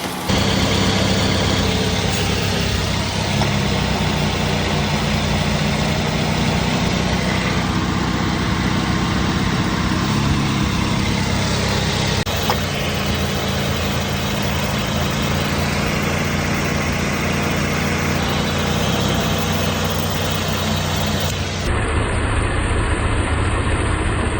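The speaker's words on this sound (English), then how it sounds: "we need the engine on and the AC on for this to work" A Mazda car engine idles with the air conditioning running, a steady loud close-up hum with a constant even drone throughout and a slight change near the end.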